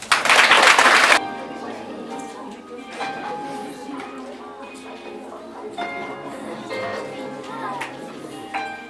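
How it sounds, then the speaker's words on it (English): A short burst of audience applause at a classroom opening ceremony, loud and dense for about a second, then fading into murmuring voices and room sounds. "With a round of applause, ladies and gentlemen."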